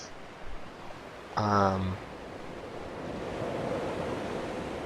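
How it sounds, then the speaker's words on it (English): Ocean waves in the video game Dear Esther, a steady wash of surf and wind that builds gently toward the end, with a brief tonal game sound and a spoken word over it. "sit back and relax and listen to the sound of the waves"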